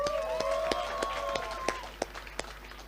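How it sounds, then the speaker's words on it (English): Wedding reception guests clap in a scattered, fading round of applause, with sharp individual claps standing out over a sustained musical tone and faint background chatter. "Can we please get another round of applause?"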